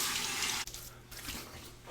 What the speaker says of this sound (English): Now a cold water rinse to the face.